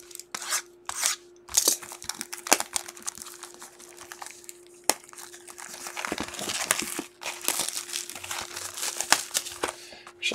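Foil-wrapped packs of Topps baseball cards being torn open and crinkled, with bursts of close crackling and rustling broken by short pauses, plus a steady faint hum underneath.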